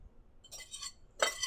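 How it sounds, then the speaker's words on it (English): A spoon clinks against a bowl while stirring sauce for pork chops in cream sauce, two short bright bursts of metallic tapping close by, with quiet between them. "Give this one last good stir."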